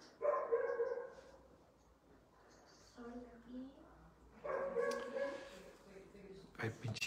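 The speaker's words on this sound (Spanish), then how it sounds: "Ay, pinche perro, el que tiene amarrado, yo creo, el pobre." A tied-up dog barks nearby in repeated bursts, with loud harmonic yelps early on and again midway, plus quieter whimpering between, while someone talks.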